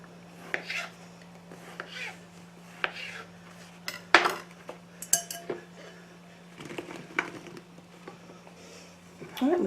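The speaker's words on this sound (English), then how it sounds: "we dump them in our 9 by 13 pan" Costco bread rolls tumbling into a 9 by 13 pan: scattered soft thuds and clinks of the metal pan, irregular and close, over a steady hum, with a voice speaking briefly.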